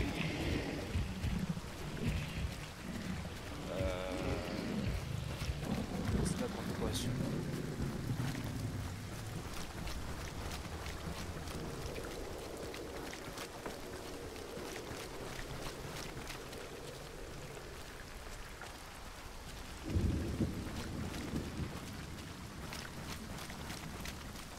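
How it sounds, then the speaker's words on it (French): Steady rain hissing with low rumbling in the video game Hunt: Showdown, a continuous dense wash of noise throughout with a soft low thump near the end, no talking. "Ah là il pleut pas mal, c'est la merde là."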